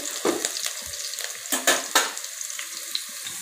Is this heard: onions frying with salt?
yes